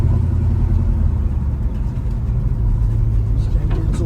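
A Box Chevy with its original 350 engine drives along, a dense low rumble that stays steady and loud from inside the cab, with someone speaking over it.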